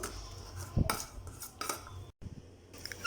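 Boiled horse gram being mashed in a metal vessel for ulava charu gives off irregular clanks, taps and scraping strokes of a utensil, close and fairly quiet.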